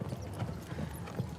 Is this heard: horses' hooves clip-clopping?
yes